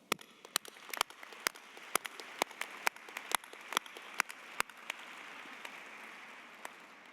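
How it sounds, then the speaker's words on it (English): A graduation crowd at a postdoctoral ceremony gives a round of applause for new doctors, a few loud separate claps standing out over a soft, spread-out patter of clapping that thins toward the end. "Let's take a moment to recognize them all with a huge round of applause"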